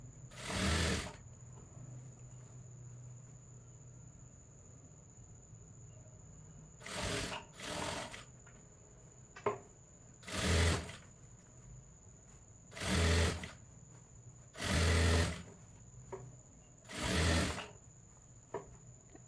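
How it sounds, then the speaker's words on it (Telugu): A sewing machine stitches a kid's jumpsuit in short, loud whirring runs of one to two seconds each, separated by quiet pauses with a faint steady hum between, close and with no talking. "చూడండి, ఇక్కడ నేను స్టిచ్ చేసుకుంటూ వెళ్ళిపోతున్నాను"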